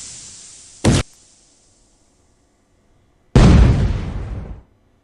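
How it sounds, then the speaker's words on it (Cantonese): In an escape room video game, a cannon shell blasts through a city gate: a short sharp bang, a quiet pause, then a loud booming explosion that rumbles and decays over about a second. "炮彈將城門打穿啦"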